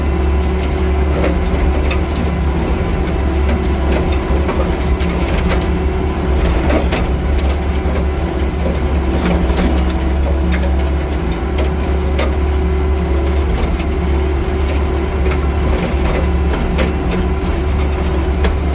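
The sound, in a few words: brush cutter attachment engine revving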